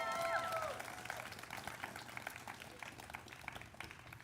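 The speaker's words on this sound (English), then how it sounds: "Give yourselves a round of applause." Audience applause at a community Black student celebration, a steady wash of many hands clapping in a large room, with a brief cheer at the start, then continuing evenly at moderate distance.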